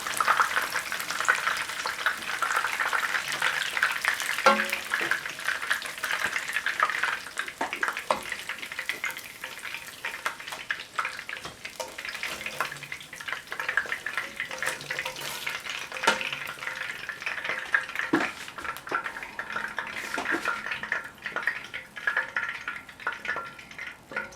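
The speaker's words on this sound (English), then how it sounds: "They have been frying for about 8 minutes." Steady crackling sizzle of battered fish and chips deep frying in hot oil, continuous and fairly close, with occasional louder pops and stirring sounds.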